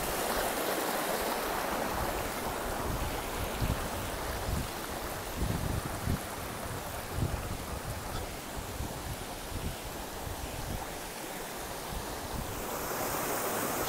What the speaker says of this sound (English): she's a waterfall. She's not going anywhere